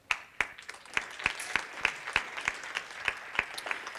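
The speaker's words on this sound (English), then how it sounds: "So let's give John a round of applause" Sparse, evenly spaced claps from a small panel-discussion audience at a youth summit: about a dozen sharp hand claps over four seconds, fairly quiet and without talk.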